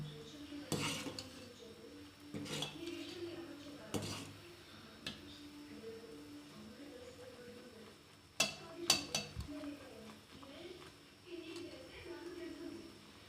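Spoon clanking against a steel pot while ulava charu (horse gram soup) is stirred and mixed, sharp metallic knocks in irregular bursts over a low room background, with a voice talking faintly in between.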